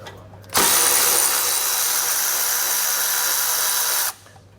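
A power tool whirs steadily for several seconds while removing a 13 mm bolt from a brake line bracket near the axle of a 2020 Chevrolet, starting and stopping abruptly with no speech.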